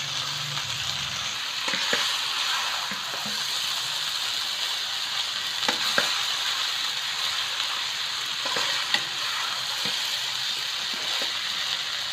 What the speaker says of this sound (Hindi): हम इसको अच्छे से फ्राई कर लेंगे।